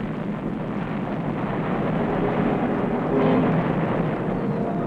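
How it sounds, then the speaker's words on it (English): An ammunition dump in the Korean War blows up in a continuous, loud, heavy roar that swells and rumbles for several seconds with no voices. "An ammunition dump goes up, thundering and crackling as it illuminates the sky with a spectacular display of fireworks."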